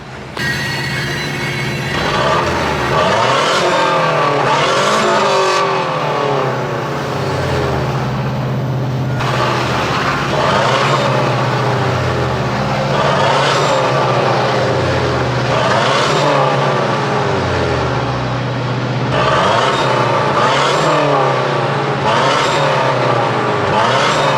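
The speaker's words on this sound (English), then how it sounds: "I'm gonna put the camera down and rev it for you guys" A Mazdaspeed6 engine revs repeatedly with the camera set down, the exhaust note rising and falling in steady blips over a constant idle drone, loud and close with no talking.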